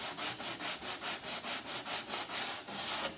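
Sanding block with 80 grit paper worked over a wooden strip-plank canoe, a close rhythmic back-and-forth scratching of about a dozen even strokes.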